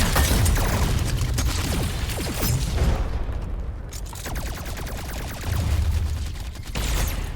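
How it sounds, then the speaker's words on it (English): Enemy aircraft exploding amid gunfire in the video game Love and Deepspace: loud, dense booms and rattling bursts of shots that roll on continuously, with a brief lull in the middle before the barrage resumes. "Thick smoke engulfs our vision as enemy aircraft burn and explode."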